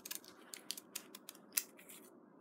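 Scissors cut through fabric pieces in a quiet, close series of crisp snips, about a dozen short cuts in irregular rhythm with no talking.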